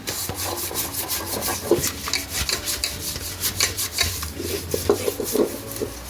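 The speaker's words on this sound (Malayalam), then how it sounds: "നമുക്കിനി അത് നല്ലതുപോലെ ഒന്ന് തേച്ചെടുക്കാം" A pressure cooker is scrubbed hard with homemade liquid cleaner, close harsh rasping strokes repeating in an uneven rhythm for several seconds with no talking.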